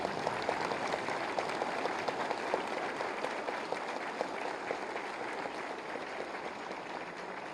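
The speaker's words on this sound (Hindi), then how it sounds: "तालियों के गड़गड़ाहट से।" An audience at a government ceremony handing out appointment letters to newly selected assistant boring technicians applauds steadily, a dense, sustained clapping that holds for several seconds without talk over it.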